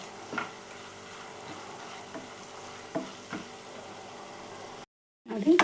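Ginger garlic paste frying in a pan for a soya chunks curry, a steady low sizzle with a few soft stirring knocks, ending in a brief pause before louder scraping.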